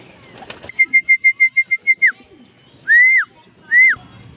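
A pigeon calls close by: a rapid run of eight even whistled notes, then two longer, drawn-out coos after a short pause, against a quiet background.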